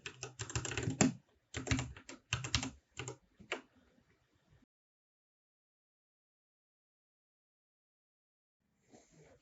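Keys clatter in rapid bursts on a computer keyboard as a command is typed into a Windows command prompt, a few quick runs of strokes up close, then silence with a faint tap at the end.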